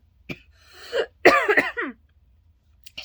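A person with a very dry mouth coughs and clears the throat in a short, close cluster of harsh, raspy bursts, followed by quiet.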